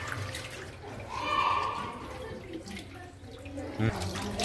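Fish pieces being swished around in a bowl of washing water, a continuous sloshing churn with gurgles and a soft knock near the end, close and fairly loud, with a voice murmuring underneath.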